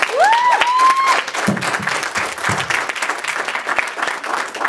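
A church congregation gives a warm round of applause as a woman is welcomed to the pulpit, with steady dense clapping throughout and a brief squeal of a voice or feedback near the start.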